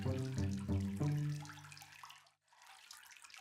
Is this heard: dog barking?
no